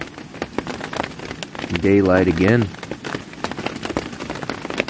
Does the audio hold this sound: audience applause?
no